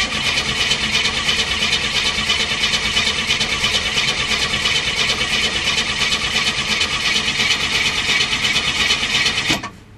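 A Ford Fairmont engine with an original AM radio is cranked steadily for nearly ten seconds, the starter's rapid whirring loud and continuous up close until it cuts off abruptly at the end.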